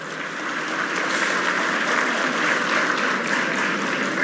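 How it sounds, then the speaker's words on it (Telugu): An audience applauds steadily at a public event honouring teachers, a dense, even wash of many hands clapping that holds at the same level throughout with no voices above it. "గట్టిగా చప్పట్లు కొట్టాలండి"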